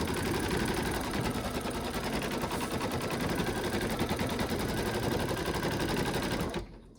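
An embroidery machine stitches a bib held in the hoop, running a steady, loud, rapid needle chatter for most of the stretch before stopping abruptly near the end.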